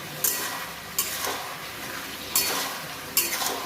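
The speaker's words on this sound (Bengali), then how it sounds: "চিনি দিয়ে একবার নেড়ে দিলাম" Pumpkin curry stirred in a pan after sugar is added, four brief spoon scrapes and taps against the pan over a soft continuous sizzle, close up and without talking.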